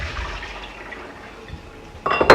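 Water drains and rinses over soaked almonds at a kitchen sink, a soft trickle building into a louder splashing rush near the end, with no talking.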